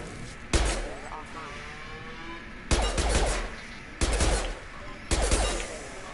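Gunfire in the sci-fi shooter Mass Effect 2 during a fight with Fenris security mechs: four separate sharp bursts of shots spaced a second or two apart over steady low ambience.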